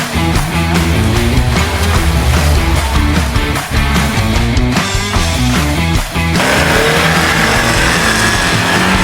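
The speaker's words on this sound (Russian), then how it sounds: "Сейчас поедут подготовленные автомобили, а потом квадроциклы." Prepared off-road competition cars rev their engines at an off-road event in Ryazan, a loud, continuous roar with rising and falling throttle bursts that dominates throughout.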